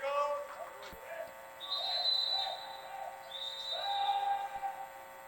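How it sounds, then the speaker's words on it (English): A referee's whistle at a college water polo match between Fordham and Mercyhurst, giving a few sustained high tones at mid distance over the echoing indoor pool hubbub. "Whistle's going around."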